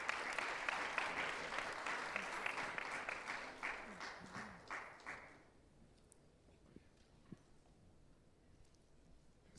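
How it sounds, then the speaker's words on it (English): An audience applauds at the IPSF World Congress 2019 in Kigali as guests take their seats. Steady clapping gradually thins into a few scattered claps and then stops, leaving a quiet room. "A big round of applause as they take their seats"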